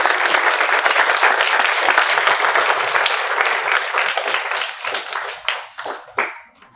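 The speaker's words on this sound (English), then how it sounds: "round of applause for Vikas, please." Audience applause after a talk at a youth event on digital storytelling, steady dense clapping from a crowd that thins out toward the end into scattered individual claps.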